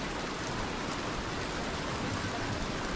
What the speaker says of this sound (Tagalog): biglang bumuho sa malakas na ulan